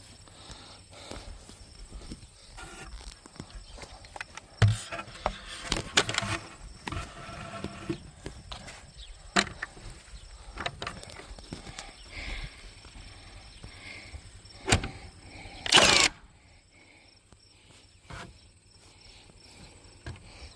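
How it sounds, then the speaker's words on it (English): A Milwaukee Fuel cordless framing nailer drives nails into wooden slabs during outdoor fence and corral repair, firing several sharp, loud bangs at irregular intervals over a faint background of crickets and insects, with no talking. "testing out Milwaukee Fuel framing nailer"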